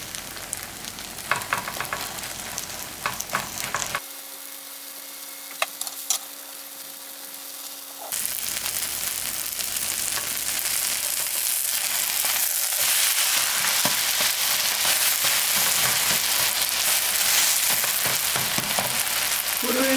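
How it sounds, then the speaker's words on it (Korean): A seafood and green onion pancake fries in a pan over low heat, a continuous crackling sizzle that drops out for a few seconds before returning louder and denser, with no talking. "약한 불에 은은하게 구워주세요"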